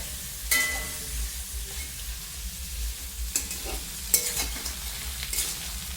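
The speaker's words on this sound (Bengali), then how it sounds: "এরকম করিয়া আমরা একটু ভাজিয়ে নেই খুব জোরে" Pieces of crab fry in hot oil over high heat, giving a steady sizzle with a few sharp stirring scrapes and clatters scattered through.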